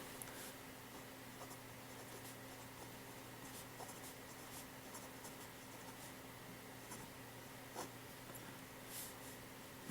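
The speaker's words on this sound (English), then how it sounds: "This writes very smoothly. You may hear a little bit of feedback" A Jinhao 911 fountain pen writes smoothly on paper, making faint, soft scratching strokes in short intermittent bursts over a steady low hum. No one speaks.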